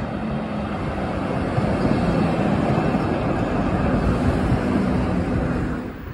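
A tram rolls past on a street in Nagyvárad, a steady broad rumble with a faint low hum that holds at a constant loudness throughout before easing slightly at the very end.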